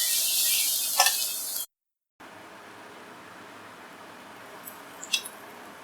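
Onions sizzling as they sauté in a pan with salt and masala for chicken soup, a soft steady frying hiss with a few stirring clinks, briefly cut off before resuming more quietly.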